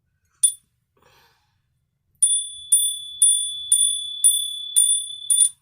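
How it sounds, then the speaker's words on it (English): A bell is struck once and rings briefly, then after a pause it is hit about seven times in a steady, even rhythm, each strike ringing bright and clear and close by, with no talking. "Let me hit the bell."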